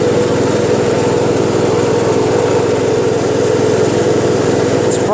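A Poulan 42-inch lawn tractor with a Briggs 14.5 HP flathead engine, recently cleaned of oil soaking the engine, running at a steady loud drone with a buzzy mechanical roar, close and constant, no voices.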